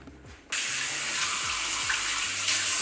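Tap water suddenly starts running into a bathroom sink and continues as a loud, steady close rush while hands are wetted, with a faint voice-like murmur underneath.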